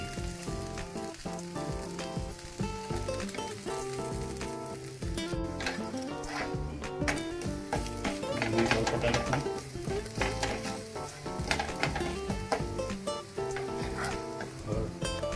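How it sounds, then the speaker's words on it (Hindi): A black chickpea dosa sizzles on a hot tawa after being flipped: a soft, steady frying hiss running beneath louder tonal background music throughout. "इसे पलटी कीजिए, करीब एक मिनट और पकाइए।"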